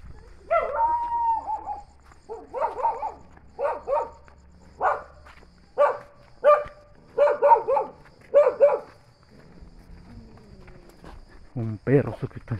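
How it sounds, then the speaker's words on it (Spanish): Dogs barking outdoors in wooded hills at night, a series of short, moderately distant barks in irregular clusters, with a few louder sharp barks near the end. "Algún perro andaría por aquí."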